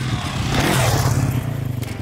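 A Sherco 300 SEF-R dirt bike engine rumbles close and loud on its first ride, a steady throbbing pulse with scraping and rattling over it and no voices.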